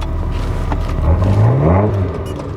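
A 1978 Ferrari 308 GTS fitted with individual throttle bodies and electronic fuel injection, driven on a Colorado canyon road: a loud, close engine rumble that swells as the revs climb in a rising whine.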